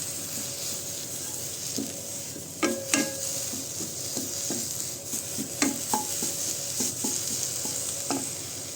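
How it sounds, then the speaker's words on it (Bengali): Neem leaves dry-frying in a wok give off a steady, faint hiss, broken by scattered scraping and clicking as they are stirred, heard close and with no voices. "কড়ার মধ্যে আমি নিম পাতা দিয়ে দিয়েছি, এটা আমি শুকনো করে ভাজবো।"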